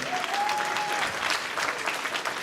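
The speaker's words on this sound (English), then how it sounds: "Let's a round of applause for these 2." Audience applause for scholarship winners at a cotillion and beautillion scholarship awards ceremony, a steady, dense burst of clapping filling the room, with a faint tonal voice trace early on.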